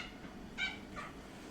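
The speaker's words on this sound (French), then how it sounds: "j'ai aussi ma petite chatte avec moi, Zélie" A pet cat meows twice in quick succession, short and faint against a quiet indoor background.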